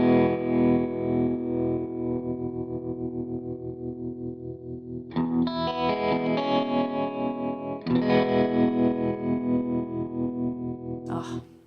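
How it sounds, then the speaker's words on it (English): Electric guitar runs through a hard-panning tremolo effect on a Line 6 POD Express, heard in mono: sustained chords pulse in a steady rhythmic throb, with a brighter chord change midway and a short high squeal at the end. "the tremolo by its nature is a hard panning tremolo"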